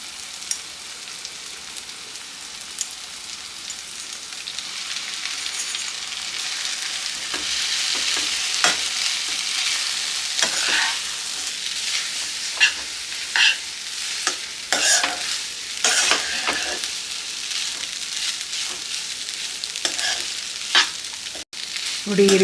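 Cooked Maggi noodles are stirred and fried in a pan, with a steady sizzle and repeated scraping and tossing sounds running throughout.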